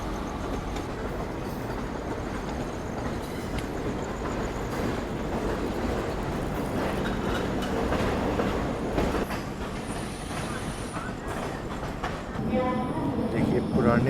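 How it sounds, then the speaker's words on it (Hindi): Gita Jayanti Express, an Indian passenger train of ICF coaches, rolling past on the Kurukshetra–Khajuraho route, with a steady close rumble and clickety-clack of wheels over rail joints throughout, a faint squeal near the end, and someone talking over it. "ये मेरे ख्याल से गीता जयंती एक्सप्रेस होगी"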